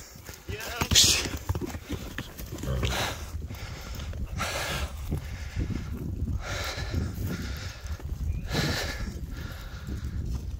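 Horse hooves clop on the ground in scattered, uneven strikes amid rustling and handling noise outdoors, with a sharp whinny-like cry early on and occasional thumps.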